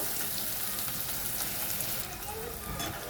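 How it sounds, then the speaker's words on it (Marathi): Onion is sautéed in a pan until brown, making a soft, continuous sizzle that stays faint and even throughout. "ते थोडं ब्राऊन होईपर्यंत, चॉकलेट होईपर्यंत त्याला थोडं परतून घेऊया कांदा चांगला."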